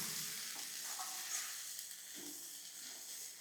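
Winter vegetables fry quietly in a pan with a soft, steady sizzle and hiss, joined by a few gentle scraping stirs.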